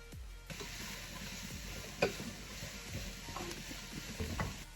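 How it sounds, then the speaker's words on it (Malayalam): Green chilies and sliced onion sauté in a pan for chicken biriyani, a quiet sizzle broken by a few sharp scrapes and clinks of a spoon against the pan. "പച്ചമുളക് സവാളയും നല്ല ഒന്ന് പാടി വരട്ടെ."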